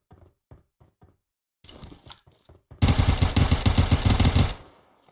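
Rapid automatic gunfire in PUBG Mobile, a loud sustained burst of shots lasting under two seconds, preceded by a few scattered lighter knocks and clicks.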